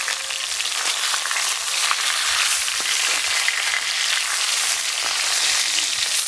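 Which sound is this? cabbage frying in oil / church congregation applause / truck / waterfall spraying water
cabbage frying in oil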